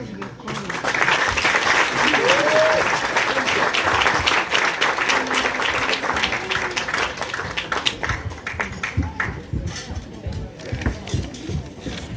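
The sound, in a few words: audience applause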